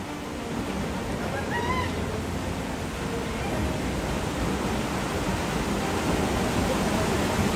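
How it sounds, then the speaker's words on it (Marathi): Sautada waterfall roaring, a dense, steady rush of falling water that fills the whole stretch without pause. A faint voice-like sound briefly surfaces over the roar. "बघा तुम्ही आवाज बघू शकता धबधब्यात किती खतरनाक येतोय."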